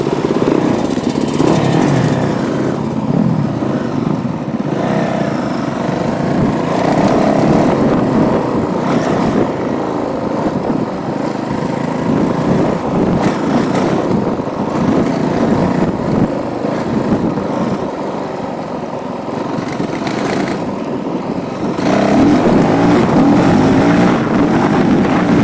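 Honda CRF450L motorcycle engine running steadily on a warm day, a loud continuous drone with rising and falling revs, heavily buffeted by wind noise throughout.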